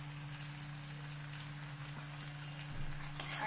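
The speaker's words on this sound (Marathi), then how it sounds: "आणि हा मसाला आणि कांदा सोबतच फ्राय करू आपण।" Raw onion and masala frying together in oil for sukka mutton: a faint, even crackling sizzle over a low steady hum, with a slightly louder spurt near the end.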